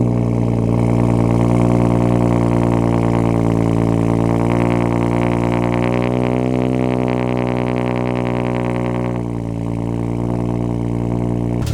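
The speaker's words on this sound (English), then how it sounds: "let's do a quick cold start for you guys" A tuned Stage 2 BMW 435i engine fires from a cold start and holds a loud, steady high idle for several seconds with a strong low harmonic drone, easing slightly near the end; no talking.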